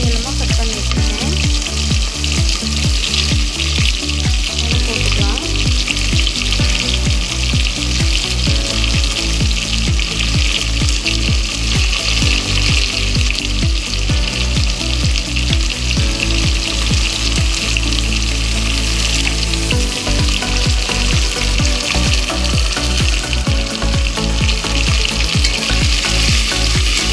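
Four large onions, sliced long, frying in oil for chicken biryani, giving a steady, loud sizzle with occasional stirring scrapes throughout and no talk.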